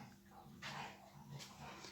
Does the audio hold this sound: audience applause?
no